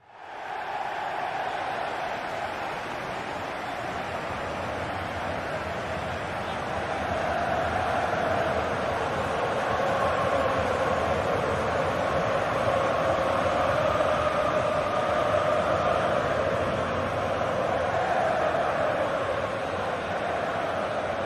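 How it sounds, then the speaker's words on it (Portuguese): A steady, broad roar from Flamengo fans in a football stadium during ordinary play, with no standout moment. The dense crowd noise holds at a constant level throughout, with a faint swell partway through. "O som base é aquele que acontece durante o jogo sem que haja um evento importante"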